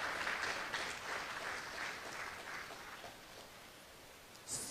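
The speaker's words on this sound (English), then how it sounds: "I want you to give a round of applause to the young lady, Ms. Ramcharan," An audience at a town hall meeting gives sustained applause for a young violinist, a steady wash of clapping that slowly fades over several seconds.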